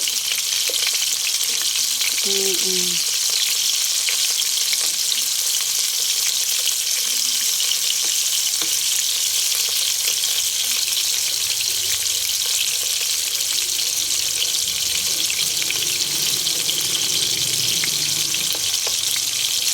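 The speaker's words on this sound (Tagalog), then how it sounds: "Itong ampalaya, lulutuin ko muna ng konti." Bitter gourd frying in a pan gives a loud, steady hiss that runs throughout, with faint clinks and light stirring beneath it.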